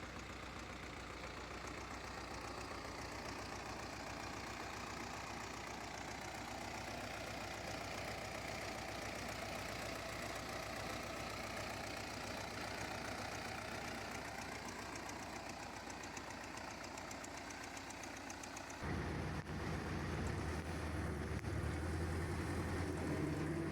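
A Belarus tractor engine runs steadily at a faint, even idle and then turns rougher and lower in pitch toward the end, with no voices.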